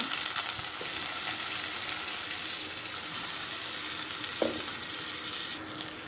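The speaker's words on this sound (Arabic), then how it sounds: "ونبتدي نقلب الرز بالعدس بتاعنا كده بالطريقه دي." Washed rice and lentils are stirred in oil in a pot, making a continuous close sizzle with scraping stir sounds and a few sharp knocks, and no talk over it.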